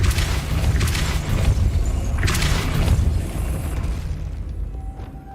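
A Depulso spell cast in Hogwarts Legacy, a heavy booming blast with bursting crackle that rolls on for several seconds before fading into quiet, no voices present.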